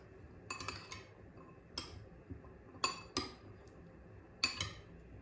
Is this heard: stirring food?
yes